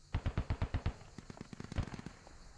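Rapid gunfire in the game Squad: a tight burst of about six loud, evenly spaced shots, then a looser, quieter scatter of distant rounds and cracks.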